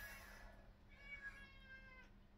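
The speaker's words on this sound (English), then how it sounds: "Cat that's awake." A cat meows once in a drawn-out call, soft and somewhat distant, against a quiet background hum.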